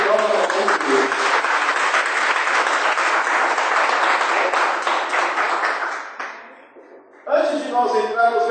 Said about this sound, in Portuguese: E vamos dar uma salva de palmas para este evangelho que nós vamos ver.